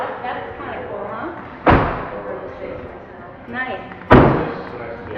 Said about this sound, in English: what's this called when this little door opens? Suicide doors.